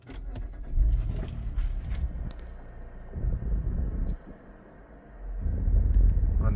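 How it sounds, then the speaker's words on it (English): A 2018 Mitsubishi Outlander engine cranks and fires up nearby, settling into a steady low idle rumble with a brief dip midway before the engine note swells again; no one speaks. "And now I'm gonna start the vehicle"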